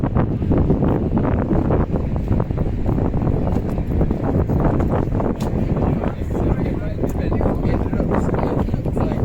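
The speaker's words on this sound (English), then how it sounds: "It's very windy now." Strong wind buffets the microphone in a constant low rumbling roar, gusting without pause and muffling everything else, in Budapest.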